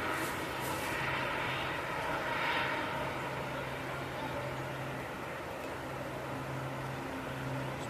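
Aircraft at Manchester Airport, a steady broad roar of engine noise filling the whole stretch at moderate distance, slowly swelling and easing without breaks.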